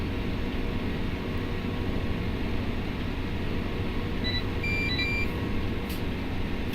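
Filling beeps in Farming Simulator 17 as a Holmer harvester's tank nears full, a few short electronic tones near the end, heard over a steady loud engine drone.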